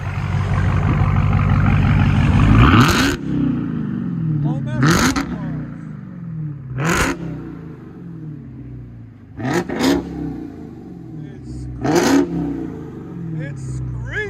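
A 2020 Dodge Charger Hellcat widebody SRT with a supercharged 6.2L V8 and Flowmaster dual exhaust roars through a long rev, then fires off several sharp, loud blips with short gaps between them, with voices talking over the engine.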